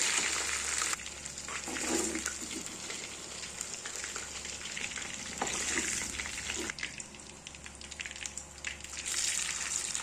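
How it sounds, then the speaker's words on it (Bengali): Continuous crackling sizzle of chicken pieces frying in oil for butter garlic chicken, with intermittent stirring scrapes and bubbling, close-up and fairly soft. "আবার একে একে সব ভেজে নেব।"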